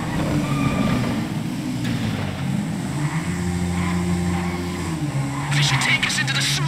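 Motorbikes riding through a tunnel in GTA 5, with engines droning and revving over a continuous road roar, some tire noise, and voices talking over the vehicles.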